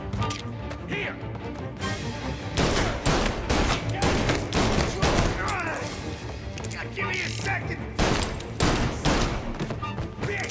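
Gunfire in the Mafia Definitive Edition video game, rapid bursts of loud shots and heavy impacts crashing almost continuously, with voices shouting amid the firefight.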